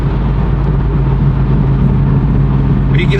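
A Toyota A90 Supra with a single-piece driveshaft cruises in 6th gear, a steady low engine and road drone filling the cabin from start to finish with no change in pitch.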